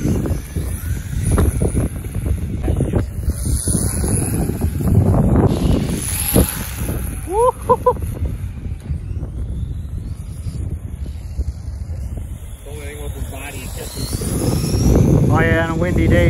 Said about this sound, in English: and a windy day too